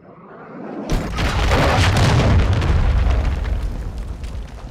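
A cruise missile explosion in Call of Duty Modern Warfare 2, a sudden loud boom that swells into a long, heavy rumbling roar that slowly fades.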